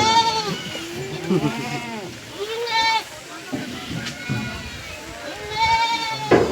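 Goat kids bleat repeatedly at a busy Sunday goat market, several harmonic cries rising over a steady crowd murmur and nearby talk.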